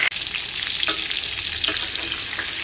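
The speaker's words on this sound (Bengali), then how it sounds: "তো চলো তাকে পটলটা আমার ভাজা হোক" Pointed gourd (potol) fries in a pan with a loud, constant close sizzle and occasional soft stirring scrapes.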